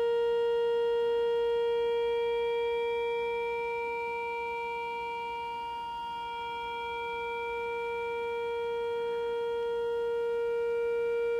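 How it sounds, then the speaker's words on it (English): A steady sine-wave tone runs through a Univox Super Fuzz pedal, holding one clean fundamental with a stack of even harmonic distortion above it. It sounds continuous and unbroken, with its level dipping gently midway and then rising again. "And you can hear it go almost back to a pure sine wave as you get the thing perfectly balanced."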